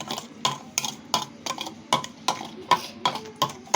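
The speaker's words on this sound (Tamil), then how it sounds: "கிண்டினே இருக்கு." Maggi noodles with Maggi masala being stirred in a pan, a spoon scraping and clinking against the metal in a steady rhythm of about eight or nine strokes, close and fairly quiet, with no talk.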